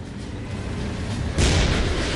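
A deep tank cannon blast booms suddenly midway through, loud and low, followed by a lingering rumble over steady background noise.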